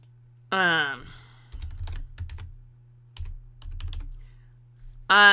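Keyboard typing during a tabletop game session, a few short bursts of quick, light clicks at moderate volume over a steady low hum, with loud tonal synth-like notes at the start and end.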